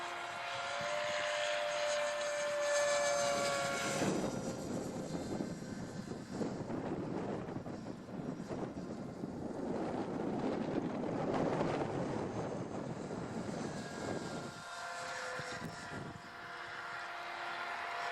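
An electric ducted-fan RC model F-15 jet's high whine and rushing roar swells, peaks as it passes, then fades and returns, loud and airy throughout.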